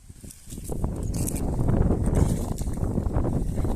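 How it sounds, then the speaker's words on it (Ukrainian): Steady gusting wind buffeting the microphone outdoors during potato digging, a low rumbling roar that builds and holds, with faint rustling underneath. "Вітер в нас дує."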